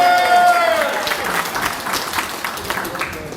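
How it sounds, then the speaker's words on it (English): Audience applause at a Four Chaplains Breakfast, a dense, loud burst of many hands clapping that starts right after a brief tone and holds steady before easing slightly toward the end. "give all of yourselves a round of applause for joining us"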